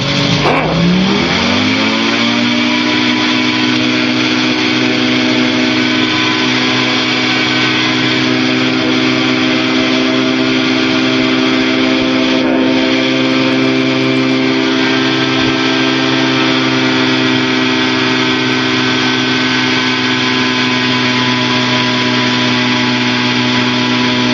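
A loud aircraft engine surges up to full throttle, then holds a steady, powerful droning roar throughout.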